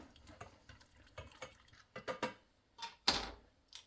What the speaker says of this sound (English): So we mix that in, really mix it in.